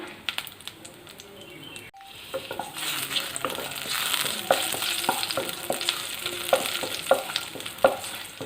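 Almonds and cashews sizzle and fry in a pan while a spoon stirs them, giving a steady crackle broken by repeated scraping taps and clicks, close and moderately loud with no talk.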